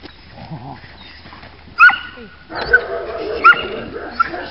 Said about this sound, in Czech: Štěkej, Gloris! Štěkej!